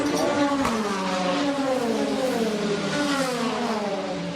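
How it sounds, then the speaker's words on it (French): Race cars at the 24 Hours of Le Mans, loud engines with pitch sweeping up and down as several cars accelerate and pass in a continuous roar. "malgré le bruit infernal des voitures"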